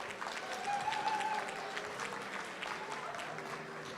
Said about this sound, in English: Let's give Jackie another round of applause.